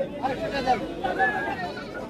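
A goat bleats in short wavering cries at the Kalampur livestock market, close by, over a murmur of crowd chatter.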